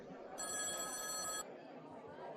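A telephone bell rings once in a continuous high, steady burst lasting about a second, loud over a murmur of background chatter, then stops.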